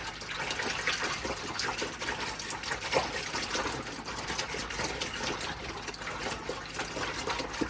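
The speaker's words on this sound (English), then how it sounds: "I'll just lather it." Detergent being lathered in water to wash a fan-shaped autogele headgear, a continuous splashing, sloshing wash of liquid that is close and moderately loud without pause.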